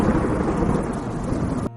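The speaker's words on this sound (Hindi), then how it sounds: "कमरे में सिर्फ बाहर होती बारिश की आवाज सुनाई" Rain and thunder outside a room in a cartoon story, a continuous dense roar of downpour with a low rumbling undertone that cuts off abruptly near the end.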